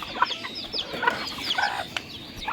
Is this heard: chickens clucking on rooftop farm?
yes